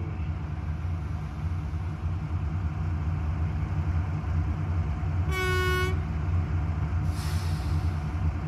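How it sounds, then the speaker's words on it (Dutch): Oil freight train bound for Coevorden rumbling steadily past at close range, a continuous heavy wagon roar with two horn blasts near the end. "Want die mogen de hele trein voorbij zien komen."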